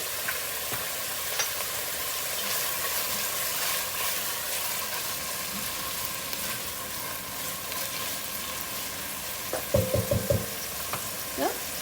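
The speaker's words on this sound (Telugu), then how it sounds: "గోంగూర మంచిగా నేను లోలో పెట్టేసుకుని కుక్ చేసుకుంటున్నాను" Gongura (sorrel leaves) cooking in a pan, giving a steady low frying sizzle throughout with a few sharper scraping or stirring clatters near the end and no talk.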